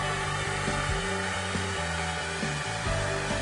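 A heat gun blows hot air while vinyl wrap is applied into a deep channel, a constant close whooshing hum with small shifts in pitch, and no talking over it.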